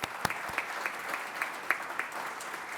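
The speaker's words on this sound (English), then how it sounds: "Please give them applause." Applause for the Rozzelle family at a building dedication ceremony, a fairly small crowd clapping with a steady patter and a few louder individual claps poking through, brief and even in level.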